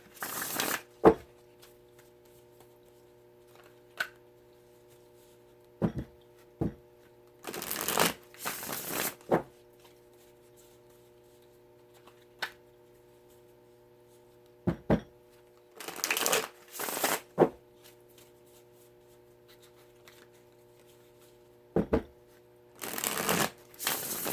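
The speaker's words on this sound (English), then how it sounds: "let's get a couple shuffles for you guys." Tarot cards riffle-shuffled in repeated crisp bursts, separated by quiet gaps with occasional soft taps, close up over a faint steady hum.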